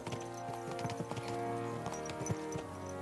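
Horses in Kingdom Come Deliverance II clip-clop along at a steady run, dense rhythmic hoofbeats close by over a continuous musical and ambient bed, with no talking.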